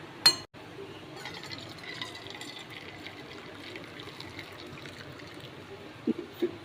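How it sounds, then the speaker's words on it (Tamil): Sugar syrup for a wheat-flour appam batter poured through a filter: a faint, thin trickle of liquid in a quiet room, with a sharp clink at the start and a few soft glassy knocks near the end. "இந்த சர்க்கரை கரைசலை நம்ம இப்போ ஃபில்டர் பண்ணி எடுத்துக்கலாம்"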